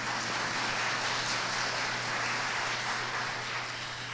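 An auditorium audience applauds for Mr. Dennis Rousselle at a Plaquemines Parish debate, a steady wash of many hands clapping at moderate loudness throughout, with a low steady hum underneath.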